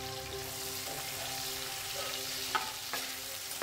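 Sliced onion frying in oil with cardamom, cinnamon and bay leaves, a steady close sizzle with a few stirring scrapes and no voices.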